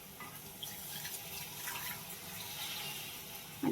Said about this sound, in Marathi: मिक्सरचं भांड धुवून म्हणलं पाणी जरा टाकावं